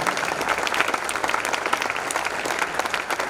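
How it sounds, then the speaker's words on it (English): Participants at a regional youth training camp in Pune applaud a student's answer, a brisk burst of many hands clapping, steady and moderately loud throughout, with no voices over it. "applause for her response."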